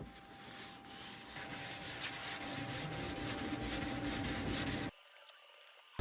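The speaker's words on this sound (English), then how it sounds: "Block sand this really lightly, quickly." Steady, close scraping rasp of a sanding block worked quickly and lightly over a Honda CR-Z bumper, a continuous brushing texture for about five seconds before cutting off to near quiet.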